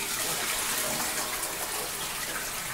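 Water from a Japanese toilet's flush runs steadily into the hand-wash basin on top of the tank, a loud, unbroken gushing that fills the whole stretch with no voices.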